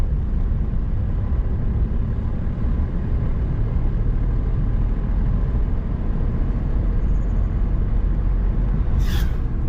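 A car in fifth gear, clutch eased out while accelerating, heard from inside as a steady, loud, low engine and road rumble throughout, with a brief high chirp near the end.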